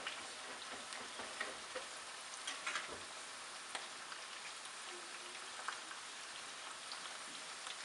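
Pastelillos fry in hot oil in a pan, a close, steady crackling sizzle with scattered pops, continuing without talk.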